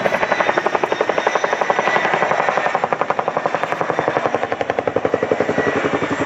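An RAF Boeing Chinook HC.4 twin-rotor helicopter lifts toward a hover at an airshow, its rotors beating in a loud, rapid, steady chop close by.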